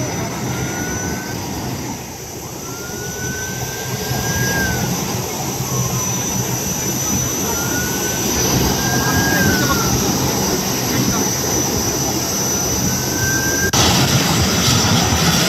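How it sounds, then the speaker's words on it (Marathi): A SpiceJet jet airliner at Mumbai's airport gives a steady, distant engine roar with faint rising and falling turbine whines that drift over the continuous rumble. "या स्पाइसजेट कंपनीच्या विमानानं टेक ऑफ केलं"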